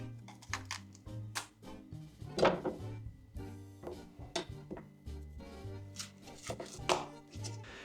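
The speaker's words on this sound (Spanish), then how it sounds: "Venga acá, pimiento rojo. Lo cortamos al medio" A knife chops through a red bell pepper on a board in a home kitchen, a run of crisp, close knocks and cuts in uneven rhythm with a few louder thumps, no talking over it.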